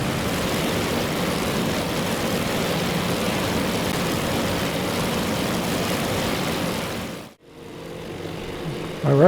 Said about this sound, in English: We don't want to sit here and watch all these planes take off.